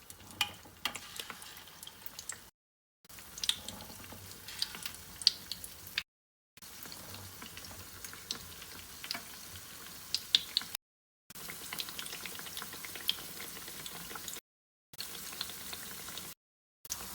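Potato pakora fritters bubble and sizzle steadily in hot oil, a continuous close crackling hiss broken by a few short silent gaps.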